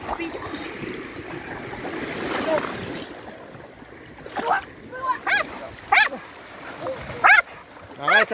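Dogs at a beach give several sharp barks and yelps in the second half, close by, over gentle water and wind noise.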